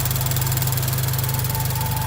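A tuned Subaru BRZ / Toyota GT86 engine with an Edelbrock supercharger idling, a steady, even low hum with a regular pulsing rhythm, heard up close with no other sounds.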